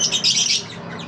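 A large yellow bird in a home aviary gives a single short, harsh squawk in two or three rough bursts, close and fairly loud, with no voices.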